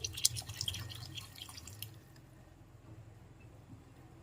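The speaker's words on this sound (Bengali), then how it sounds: "এখন আমি এর মধ্যে দিয়ে দিচ্ছি জল" Water poured into rice for chicken pulao, a short burst of splashing and dripping during the first two seconds that then fades to quiet.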